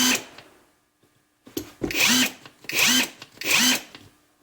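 A Makita-clone impact driver, a cheap knockoff, fires in three loud, evenly spaced bursts of hammering whir after a short opening trigger, running alone with quiet gaps between.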